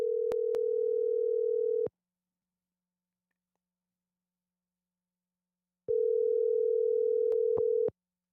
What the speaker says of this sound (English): Answer your phone, Sam.